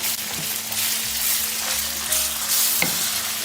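Ground beef fries steadily in a pan with a loud, close, continuous sizzle and crackle and an occasional soft clink, with no voices.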